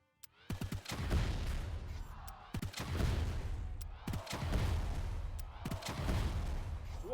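Cannon attack from the Brawlhalla fighting game, heard as about four loud booming shots, each followed by a rumbling, crackling tail in quick succession.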